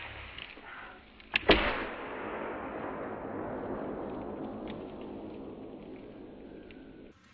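A No.26 Forge tripwire alarm mine goes off in slow-motion replay, opening with a sharp, loud crack followed by a long, steady hissing rush that fades out over several seconds.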